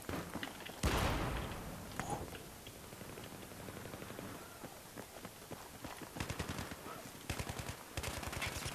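Battlefield 3 gunfire crackles in dense bursts, a loud volley near the start, then scattered shots and rapid automatic fire through the end, with a voice briefly underneath.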